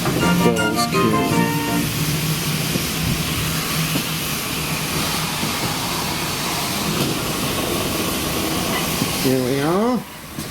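A short heritage train ride at Didcot Railway Centre: steady loud rumble and rolling noise of the carriage throughout, with voices speaking over it and a brief tonal squeal near the end.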